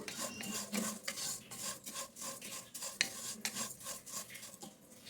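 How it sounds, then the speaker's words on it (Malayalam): Roasted vermicelli is stirred and sautéed in ghee in a pan, producing quiet, repeated scraping strokes of a utensil with a faint sizzle beneath, nearby and without speech. "സേമിയ ഞാൻ റോസ്റ്റഡ് സേമിയാണ് വാങ്ങിച്ചത് എങ്കിലും നെയ്യിലിട്ട് ചെറുതായി ഒന്ന് വഴറ്റി കൊടുത്തു"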